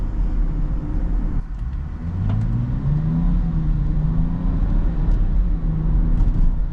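A BMW SUV engine revs up and pulls away with a rising rumble, rough and moderately loud, held steady as the vehicle keeps accelerating.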